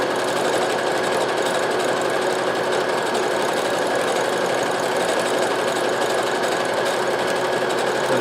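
A Brother CP7500 sewing machine stitching a decorative leaf pattern, a continuous rapid mechanical chatter and hum at steady loudness, close up and alone.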